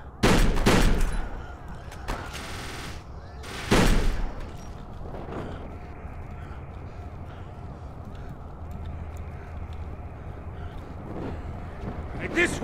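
Shotgun blasts from the shooter video game Kane and Lynch 2: Dog Days, two loud booming shots near the start and another a few seconds later, followed by steady ambient game noise and a faint later report.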